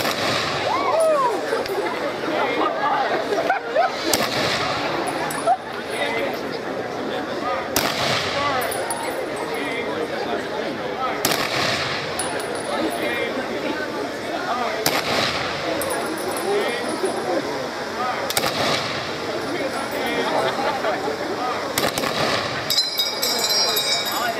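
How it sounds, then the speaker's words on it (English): Rifle volleys of a 21-gun salute at an outdoor 9/11 memorial ceremony, sharp loud cracks repeating at roughly regular intervals over a constant crowd and wind noise. "the 21-gun salute to honor those lost in the tragedy of 9/11"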